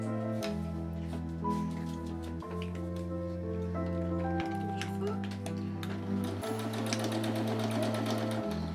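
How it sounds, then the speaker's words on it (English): A sewing machine stitches quilt strips together in long motorised runs with short pauses between them, close and steady, while someone talks over the machine. "Okay, so I'm just about to sew the last one on now"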